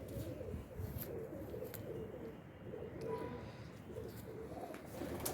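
A pair of pigeons coo softly and repeatedly in low, rolling pulses, with faint background sounds throughout.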